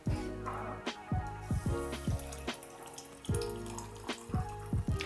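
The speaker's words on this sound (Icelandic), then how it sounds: "svo bara fyllum við hann upp með vatni" Tap water running into a jar holding chia seeds, a steady splashing stream broken by several short gurgles and pitch-rising fills, fairly close.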